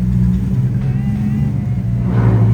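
A car engine rumbles loudly and steadily at close range, with a deep low drone that swells slightly toward the end as if revving.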